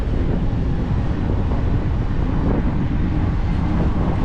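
Steady, loud wind buffets the microphone outdoors on a gusty January day in Sochi, a continuous low roar with no talk over it.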